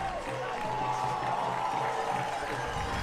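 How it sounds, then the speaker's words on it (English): At a college football game between Lawrence Tech and Defiance College on Senior Day, a stadium crowd keeps up a steady roar of cheering and clapping. "And this crowd has come to life"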